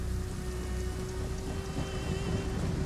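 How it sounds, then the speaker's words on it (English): Heavy, steady rain pours down in a continuous dense hiss with no voices, and a faint low rumble of thunder rolls underneath. "Rain was heavy and visibility was low"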